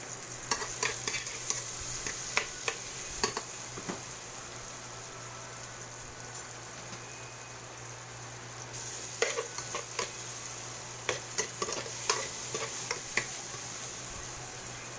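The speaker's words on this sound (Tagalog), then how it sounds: "Gisahin lang natin ng saglit lang" Ingredients for Ginataang Laing sauté in a pan, giving a steady sizzle and frying hiss punctuated by sharp clicks of a utensil stirring and scraping, loud and close.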